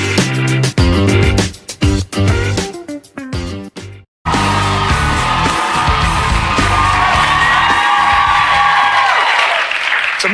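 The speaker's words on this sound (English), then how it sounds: "It's amazing how loud people clap when they do this" A studio audience at a late-night talk show breaks into loud, sustained clapping with cheers and whoops, filling the second half after a stretch of music that cuts off.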